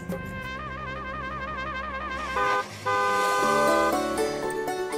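A vehicle horn honks repeatedly and loudly, with sustained toots that briefly break before resuming, over a low engine rumble as the vehicle arrives.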